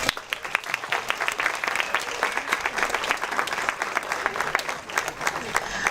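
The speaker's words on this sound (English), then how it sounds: "congratulate you with one more round of applause" An audience at a student art contest claps together in a steady, dense round of applause that is fairly loud and sustained throughout, with no talking over it.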